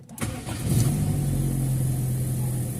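A Toyota Corolla with a morning hard-starting problem, just after a fuel filter change, cranks for a moment and catches at once, settling into a steady, close idle.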